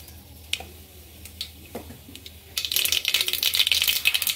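Mustard seeds splutter in hot oil in a pan, starting with scattered pops and then breaking into a loud, dense crackling that runs steadily to the end.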